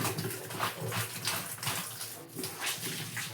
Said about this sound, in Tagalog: Lababo sa loob, ilagyan ko ng sosa liquid.